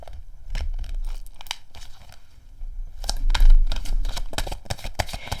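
A deck of tarot cards shuffled up close, giving a steady run of papery riffles, flicks and rustles that keeps going for several seconds and builds slightly toward the end, with no talking.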